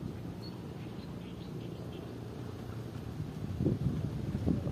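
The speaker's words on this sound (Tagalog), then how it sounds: "O yan, malakas ang hangin" Strong wind buffets a microphone out on the water during solo fishing, a rough continuous rumble that swells into heavier gusts toward the end.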